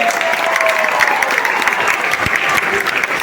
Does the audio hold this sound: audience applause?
yes